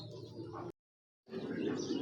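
Racing giribaz pigeons cooing nearby, low soft coos and bird calls in two short bursts separated by a brief silence.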